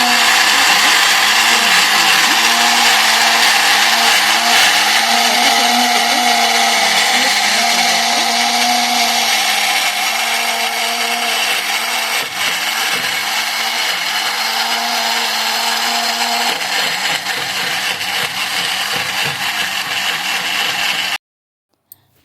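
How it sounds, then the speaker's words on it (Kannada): A Pigeon brand mixer blends a smoothie of dates, apple, strawberry, milk and banana. Its loud, steady motor whir runs for about twenty seconds with slight pitch wobbles, then cuts off abruptly. "ಇದು ಕಂಪ್ಲೀಟಾಗಿ ಮಿಕ್ಸಿಗೆ ಹಾಕಿದ್ದೀನಿ."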